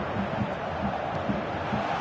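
A stadium crowd in the eFootball video game roars and cheers after a goal. The noise is a dense, steady wash lasting about two seconds, with a commentator's voice faintly mixed in.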